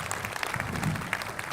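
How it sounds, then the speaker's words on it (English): Brief burst of audience applause at a university ribbon-cutting ceremony, steady scattered clapping from a crowd. "he really deserves a round of applause"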